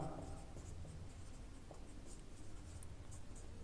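Chalk or marker scratches steadily across a classroom board as a physics formula is written, a continuous close scraping with no talking.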